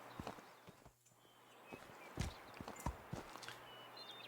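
Donkey hooves clop along in the medieval farming game Medieval Dynasty, a string of soft, uneven thuds close by at a walking pace.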